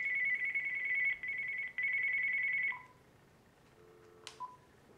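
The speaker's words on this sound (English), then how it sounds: "I have a phone call here." Electronic telephone ringtone of an incoming call, a loud steady warbling tone that repeats in long bursts and then stops, followed by faint beeps in a quiet room.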